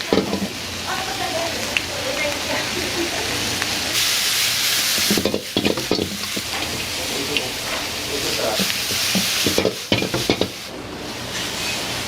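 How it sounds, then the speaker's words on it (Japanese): Vegetables stir-fry in a pan over a roadside diner's kitchen stove, a steady loud sizzle with scraping and tossing bursts throughout, voices talking briefly over it. "野菜炒めです"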